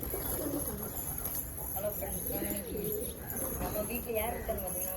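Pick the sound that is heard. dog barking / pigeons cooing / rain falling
pigeons cooing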